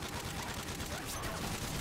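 Rapid gunfire in a Modern Warfare 3 Chaos Mode match on the Village map, a dense continuous burst of shots and explosions filling the whole moment, loud and close with no clear talking.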